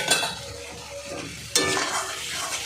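Fried potatoes and cauliflower are stir-fried with masala, a close, continuous sizzle broken by scraping stirs and a louder toss partway through, with no voices.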